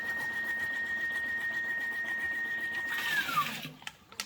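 A peristaltic pump bottle filling machine runs with a steady, continuous mechanical whir and a sustained tone that slides downward near the end, followed by a few short clicks.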